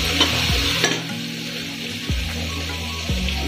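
Spices tempering in hot oil in a pan for a home-cooked Odia dish, giving a steady loud sizzle with a few sharp crackles and stirring clatters, no one talking.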